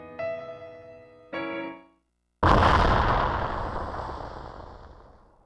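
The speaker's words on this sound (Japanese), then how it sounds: "爆発音だわ。" A sharp, loud explosion in a PS2 video game, a Ferris wheel blast, bursts in after two short synthetic tones and a brief silence, then rumbles and slowly fades.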